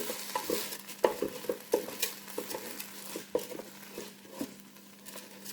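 Rinsed jasmine rice being toasted and stirred in a pot for curry chicken, with repeated scraping and clinking strokes over a quiet, low sizzle, close and fairly soft.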